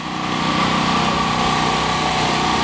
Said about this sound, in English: I don't know if you can hear me over the sound of the generator over next door or not.